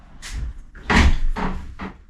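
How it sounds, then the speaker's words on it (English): A hotel bathroom sliding door rolls and knocks in a few short bursts, a soft slide followed by louder thuds and a fading rumble, close by with no voices. "sliding door"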